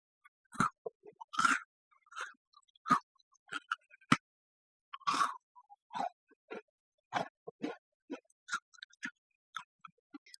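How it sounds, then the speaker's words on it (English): Crunchy bites and chewing of a mint chocolate cookie, heard as a run of sharp, close, dry crackles and crunches in irregular bursts with short quiet gaps between them. "I actually eat the mint chocolate cookie."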